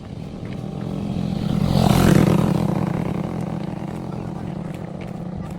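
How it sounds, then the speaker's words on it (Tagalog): A motorcycle passes on a road during a skating outing. Its engine roar swells as it nears, peaks around the middle and fades away over a constant background rumble. "Sabi, may motor ba ya? May motor!"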